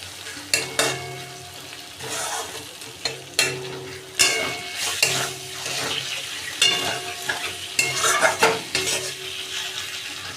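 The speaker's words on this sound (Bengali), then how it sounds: "আস্তে করে এটাকে নেড়ে এর উপরে রেখে দেবো।" Bombay duck fish is gently stirred in a frying pan with onions, a steady sizzle broken by repeated scraping and clinking strokes of a spatula against the pan, close and fairly loud.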